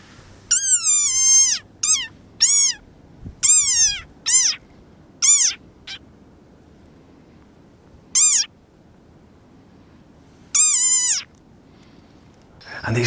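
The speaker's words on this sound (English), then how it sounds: "It's an African frog, and it is very angry in this clip I'm about to show you. It's making a lot of noise" An angry, puffed-up African frog gives loud, high, piercing harmonic squeals in short bursts, about eight separate calls with silent gaps between them, close and alone with no talking.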